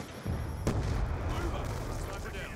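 A sticky grenade explodes in Call of Duty Black Ops 2 multiplayer, a sharp boom followed by rumbling gunfire-like noise, loud and close, with a voice speaking over it.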